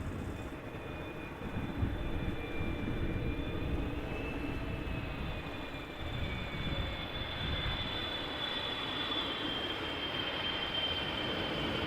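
A Boeing 777 freighter arriving from Dubai lands at Amsterdam Schiphol. Its engines produce a steady, moderately distant roar with a faint whine, and no strong reverse-thrust surge is heard.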